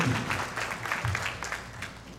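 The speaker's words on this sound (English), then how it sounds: "So please give a big thanks and clap to Ramayan Bakshi" An audience at an ICC 20th anniversary celebration claps for Ramayan Bakshi, a moderate, steady patter of many hands that holds for about two seconds without voices.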